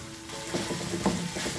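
Masala paste for a spinach and peanut dish fries in oil over a low flame, a soft steady sizzle with a couple of brief stirring scrapes, quiet and close.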